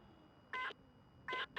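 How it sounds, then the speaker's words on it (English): A radio in The Long Dark video game gives two short electronic beeps about a second apart, with a third starting at the end, clear over a quiet background. "Beep, beep."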